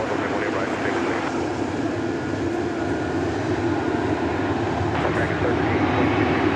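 A United Airlines jet rolls for takeoff at Dallas Fort Worth airport, a steady, loud broadband engine roar that holds and swells slightly toward the end, heard at a distance with no speech.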